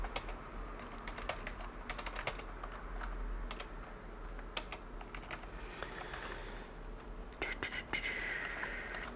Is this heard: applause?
no